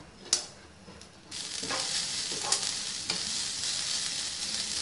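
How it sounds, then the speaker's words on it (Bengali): Grated coconut frying in a pan on raised heat for a Bengali semolina cake pitha, a steady close sizzle with stirring scrapes and a few sharp clinks, continuing alone without talk. "নারকেল গুঁড়োটা একটু ভাজা ভাজা করতে হবে।"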